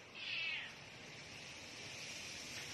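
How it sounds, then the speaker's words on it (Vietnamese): A pagoda cat gives a single mid-pitched meow near the start, moderately close, then only a steady background hiss follows. "Mèo nè, mơ mơ nè."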